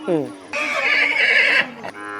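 A horse neighs loudly and close at a large horse and cattle market, a long whinny with other livestock sounds and a voice around it.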